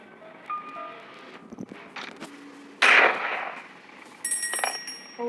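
Gunshots in the Granny video game: a few sharp bangs among beeps and electronic tones, one loud burst near the middle followed by a brighter crackle, over a quiet background.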